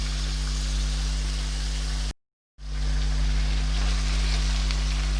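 Chicken fries with garlic ginger paste for a korma, a steady close sizzle that drops out briefly for a moment before resuming.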